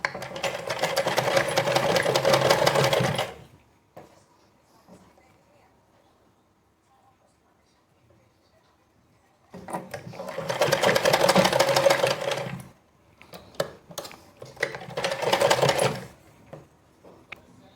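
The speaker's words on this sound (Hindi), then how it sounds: "सिलाई करने में इजी हो जाता है, इजली मशीन चल जाता है" A sewing machine runs in two long bursts while stitching a kurti, with steady mechanical whirring, then a pause, then shorter runs near the end; quiet gaps between suggest fabric being adjusted.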